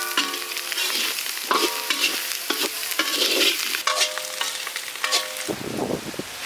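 Onions sizzling in a hot pan while being stirred for a goat boti recipe, a steady bright fry broken by repeated scraping and clinking stir strokes, close and fairly loud, with no talking.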